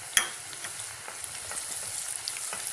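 Whole garam masala and green chillies frying in oil for a mutton curry, a soft continuous crackle and sizzle with scattered pops and one sharp clink near the start.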